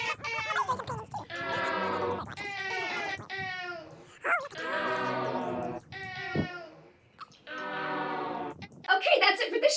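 A cat meows loudly and repeatedly at close range, a series of long, drawn-out wailing cries separated by short pauses.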